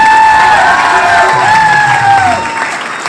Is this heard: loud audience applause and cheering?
yes